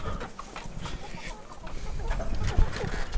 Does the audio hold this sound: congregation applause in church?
no